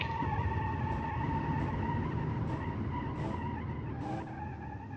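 A tuned 1000-horsepower car running 12 psi of boost brakes hard in a racing video game. Its tires screech in a long, loud, continuous skid over the steady roar of the engine.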